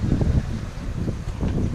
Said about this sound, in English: It's really windy.